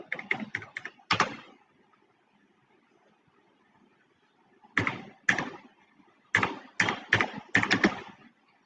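A computer keyboard being typed on in short bursts: a quick cluster of clicks, a long pause, then two more rapid clusters of keystrokes, close and crisp with no voices.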